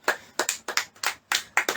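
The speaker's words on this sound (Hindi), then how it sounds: "ताली बजाएंगे सब जन" Congregation clapping hands in rhythm during a live church prayer meeting, about eight bright claps in quick paired bursts, close and clear with no talking.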